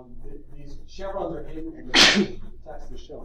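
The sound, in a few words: sneeze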